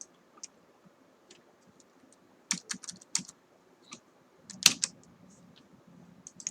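A computer keyboard clacks as SQL code is typed, with sparse light key taps giving way to quick clustered bursts of clicks, close and fairly quiet, with no talk.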